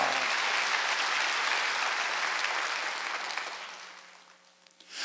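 A church congregation claps during a Wednesday worship service, a loud, dense burst of applause that holds steady and then tapers off at the end.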